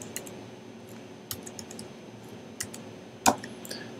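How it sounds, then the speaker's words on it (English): A password tapped out on a computer keyboard: a few sparse, quiet keystroke clicks spread over a soft background hum, with one sharper click near the end. "I'm going to go ahead and type it in here."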